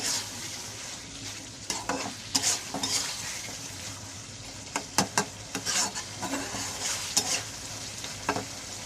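Tomato and potato fry in a pan while a utensil stirs them, giving a continuous sizzle punctuated by sharp scraping and clinking strokes against the pan at an irregular pace, close and without speech.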